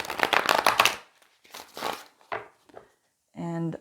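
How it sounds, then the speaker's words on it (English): A tarot card deck is shuffled by hand in several quick riffling bursts close up, broken by short pauses, with a brief tonal sound at the end. "I will shuffle again on camera."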